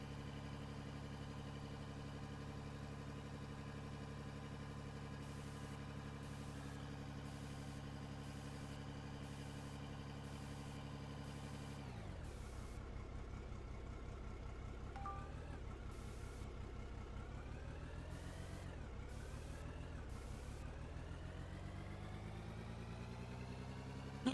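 A rock haul truck at a hilltop mine in the game Out of Ore labours uphill, its steady engine drone shifting pitch and dropping partway through as the load strains, loud and continuous with no talk over it.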